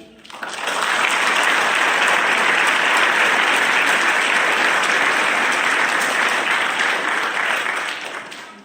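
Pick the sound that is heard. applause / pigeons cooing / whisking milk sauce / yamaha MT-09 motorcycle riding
applause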